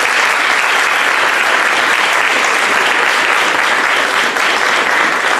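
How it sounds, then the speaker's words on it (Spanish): Steady, dense applause from an audience at a Spanish-language religious gathering, a full crowd clapping continuously and loudly for several seconds with no voices standing out. "¿Cuántos le dan un aplauso?"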